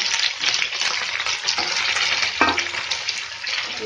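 Pumpkin frying in a pan with coriander leaves and red chili gives a dense, loud, continuous sizzle, with a few spatula stirs and scrapes close by.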